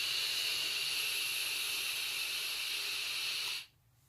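Steady, loud hiss of vapor drawn through an IJOY Katana vape kit running at 70 watts, continuous for about three and a half seconds before cutting off abruptly into near silence.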